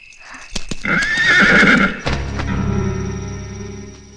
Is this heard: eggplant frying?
no